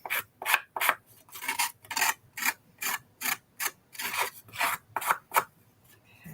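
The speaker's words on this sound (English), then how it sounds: "I'm literally just dragging them along the edge of the cardstock" Cardstock edges are distressed by dragging a tool along them, giving a rhythmic series of about a dozen rasping scrapes, close and fairly loud, with short gaps between strokes and no talking.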